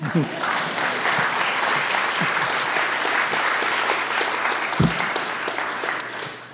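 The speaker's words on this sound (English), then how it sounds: "I think I deserve a round of applause here" A lecture audience at a political science talk breaks into a round of applause, sustained mid-level clapping with a few louder thumps and scattered close claps, no voices over it.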